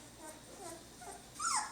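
Norwegian Elkhound pup giving a few soft, high whimpers and yips, ending in a louder rising whine, close by with quiet room background.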